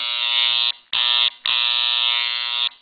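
An Andis Master hair clipper with its blade out of adjustment buzzes loudly in a harsh, steady drone, cut off twice briefly before running on, with no one talking.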